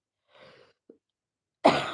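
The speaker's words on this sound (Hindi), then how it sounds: "एसी चलाओ तो जैसे कि खांसी खूब आती है" One sharp, loud cough bursts out close by near the end, after near-silence broken only by a faint breathy rustle and a tiny click.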